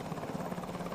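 A military helicopter used for airborne troop insertion, its rotor chopping in a steady, fairly faint hum that sounds somewhat distant and carries on alone without any voices.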